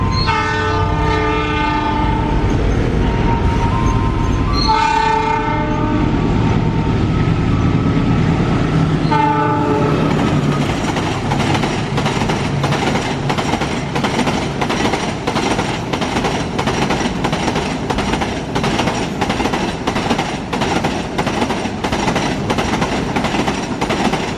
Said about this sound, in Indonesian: jalur 3 akan melintas kereta api Kalimas Kargo 2521